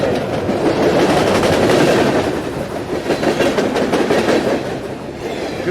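An angry railway gun rumbles in the game Into the Radius, a loud, continuous rolling clatter like a heavy train passing close by, with a dense low roar and rhythmic metallic clacking.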